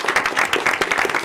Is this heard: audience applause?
yes